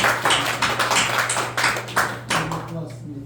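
A church congregation at Sunday worship applauding, a series of loud rhythmic clap bursts in a roomy space, fading out toward the end over a low steady hum.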